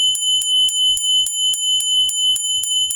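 Regular, evenly spaced strikes on a gokore, a thick-walled Japanese Buddhist temple bell, each hit bright and percussive, dying quickly, heard up close with no voices.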